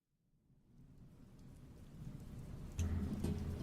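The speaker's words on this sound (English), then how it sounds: "The rain keeps falling and falling. Again, lightning crashing in the sky." Rain fading in from silence and building to a steady hiss, with a deep rumble of thunder rising beneath it and swelling louder near the end, in a fantasy bandit-camp setting.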